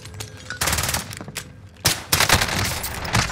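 Rapid automatic gunfire in the shooter game Warzone on Rebirth Island, loud close bursts of machine-gun fire broken by short pauses, with no talking.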